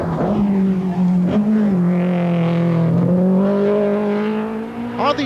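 A Black Manta rally car thrown through a stage of the 1986 Circuit of Ireland Rally, its engine howling loud and close with steady revs rising and falling and a brief tire squeal near the end.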